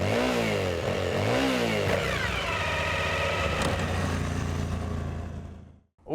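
A Kawasaki Z125 Pro motorcycle engine revs loudly and close, with rising and falling pitch sweeps as it accelerates, then cuts off abruptly near the end.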